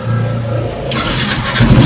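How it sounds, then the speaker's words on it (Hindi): Yamaha FZ-X BS6 motorcycle engine cranking on the electric self-starter and catching, a low mechanical whirr rising into a steady idle, heard close up. "देख पा रहे हैं गाड़ी एक सेल्फ में स्टार्ट है"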